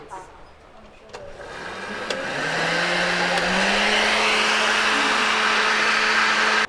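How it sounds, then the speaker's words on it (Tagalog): A kitchen blender whirs through vegetarian ingredients, starting low with a few knocks before spinning up into a loud, steady whine that runs close and continuous to the end. "Okay, i-blend na po natin."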